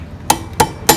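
A metal retaining clip is pressed into place on the front brake caliper of a Royal Enfield Himalayan motorcycle, giving three sharp, close metallic clicks or taps evenly spaced about a third of a second apart, with no talking.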